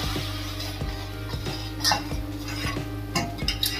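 Spoon stirring red chili powder and Kashmiri chili into raw mango pieces in a pot, with repeated scraping and clinking of metal against the vessel over a steady background hum.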